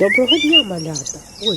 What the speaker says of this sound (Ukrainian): Так, це спів птахів.